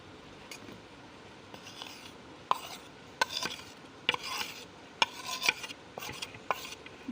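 A spoon stirs ingredients into boiled milk for homemade strawberry ice cream, giving soft scraping swirls and a series of sharp clinks against the pot, irregular and fairly quiet.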